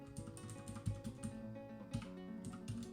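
Typing on a computer keyboard during a Dwarf Fortress game session, a steady patter of quiet key taps with a few stronger strikes, under a constant background hum of game music.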